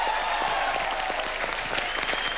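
Studio audience on a Hindi comedy show breaks into loud, sustained applause that fills the whole stretch, with a dense wash of clapping and no break.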